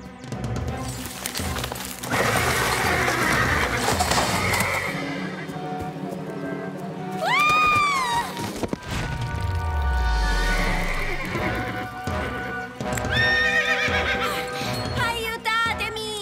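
Cartoon horse neighs and whinnies several times amid clip-clopping hooves and splashing, fairly loud, with animated character voices and music around it.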